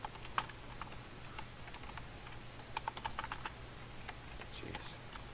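Quick clicks of typing on a computer keyboard late at night, in scattered bursts of light taps over a faint steady hum, close and fairly quiet, with no talk.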